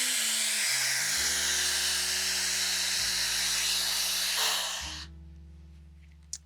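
A hair dryer blasts loudly and close during a blow-out, its broad airy roar shifting in pitch as the speed changes, then switching off abruptly near the end, leaving a faint hum and one small knock.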